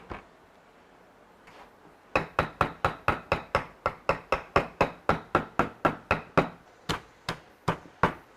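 A cooked lobster is chopped in half with a cleaver in about twenty sharp, evenly spaced blows that land close by and loud, after a couple of quieter knocks and a short pause.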